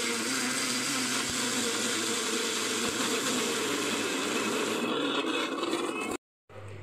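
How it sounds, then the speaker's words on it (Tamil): A mixer grinder runs loud and steady, grinding a paste until its oil releases, then cuts off briefly before starting again. "இதை இன்னும் கொஞ்சம் நம்ம கிரைண்ட் பண்ணுறப்ப இதிலிருந்து ஆயில் எல்லாமே வெளியே வரும்"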